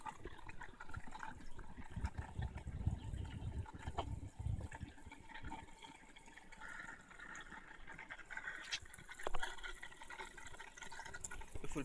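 A toilet flushes and its tank refills, moving 5 to 7 liters until the float shuts off the inlet. Water gushes and swirls close up for about 12 seconds, with no voices.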